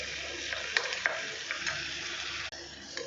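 Curry leaves frying in hot oil in a pan, a steady close hiss broken by a few sharp crackles and pops, no talking.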